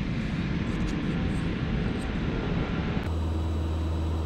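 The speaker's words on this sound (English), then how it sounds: "hop in the airplane, get in the air, and we'll see what it can do." A Mooney M20E light single-engine airplane in flight, a steady loud engine and airframe drone heard from inside the cabin, constant throughout with a slight shift near the end.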